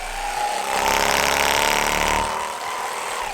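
Theragun G4 Pro percussive massage gun (2023) running close by, a steady motorised buzz with a fast percussive pulse that swells louder for about two seconds, then eases back to a lower hum, with no talking.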